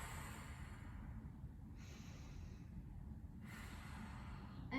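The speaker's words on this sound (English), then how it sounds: "Inhale and exhale." Slow breathing during a yoga stretching class, with two soft breath sounds in alternation: a quiet inhale, then an exhale. Low room noise runs underneath.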